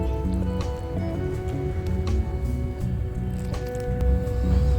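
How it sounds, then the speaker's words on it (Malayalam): Soybean bajji mixture being kneaded by hand with water in a bowl, giving soft wet squishing and dripping sounds, steady and close, with no talking. "നമുക്ക് കുറച്ച് വെള്ളം ഒഴിച്ച് ഇതൊന്ന് കുഴച്ചെടുക്കാം"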